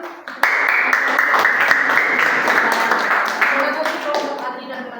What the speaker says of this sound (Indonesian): Nah, untuk itu kita berikan tepuk tangan.